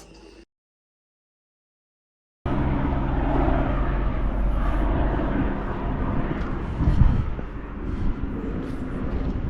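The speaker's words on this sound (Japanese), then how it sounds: "めっちゃ飛行機の音する。" An airplane passes overhead, a steady broadband engine roar that comes in suddenly after a brief silence and holds loud through the rest, swelling slightly near the middle.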